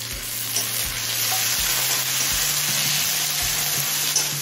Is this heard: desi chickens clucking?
no